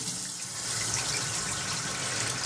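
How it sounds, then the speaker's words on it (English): Water rushes steadily from the slowly opened valve of a Python clean and fill system, a close, continuous gushing hiss of even flow with no break. "And I got water coming out, and it comes out nice and evenly."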